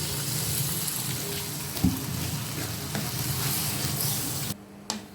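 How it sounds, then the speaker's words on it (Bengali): Potatoes frying in a pan with sautéed spices for a Bengali-style breakfast dish, giving a steady loud sizzle with stirring scrapes and one sharp knock midway, then a sudden drop to quiet near the end. "এখন আলুগুলো দিয়ে দেবো"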